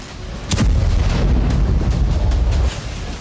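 Explosion in Syria captured in news footage: a sudden heavy boom followed by a sustained low rumble that holds for about two seconds before easing off.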